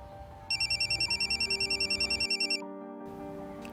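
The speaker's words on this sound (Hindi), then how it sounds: "जरा आकर देखो किसका फोन है।" A telephone ringtone trills in rapid, evenly pulsed bursts for about two seconds, bright and clear, then cuts off, leaving a low steady hum.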